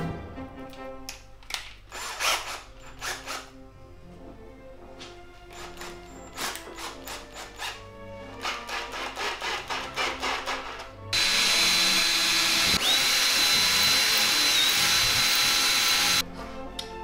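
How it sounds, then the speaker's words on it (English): A power drill drives bits into wood during door building, with short bursts of whirring and rubbing, then a longer continuous whine as the drill runs steadily near the end. "Next step is to drill these bits in like so."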